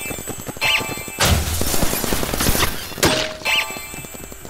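Paintball guns fire in bursts in a Roblox game, with rapid snapping shots and clattering impacts arriving in dense clusters and short pauses between them.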